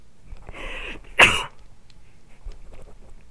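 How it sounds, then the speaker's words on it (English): A single sharp, loud sneeze bursts out close by, short and explosive, with faint rustling and quiet room noise around it. "Sneeze. Didn't even have time to pause."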